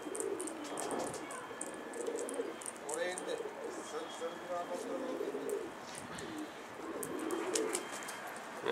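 Pigeon cooing in soft repeated phrases, close and fairly quiet, over a faint background hiss.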